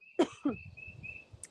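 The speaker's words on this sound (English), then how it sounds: "I have a dry cough." Two dry, close coughs in quick succession, sharp and harsh, followed by quieter breathy sounds with a thin steady tone running through the background.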